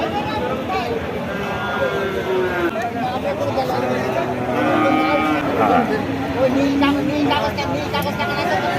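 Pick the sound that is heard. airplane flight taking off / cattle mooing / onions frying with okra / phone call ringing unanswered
cattle mooing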